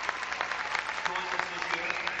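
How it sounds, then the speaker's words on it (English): A crowd at a 1992 high school band spring concert claps steadily, a dense patter of applause with some voices mixed in underneath. "Give him a round of applause, please."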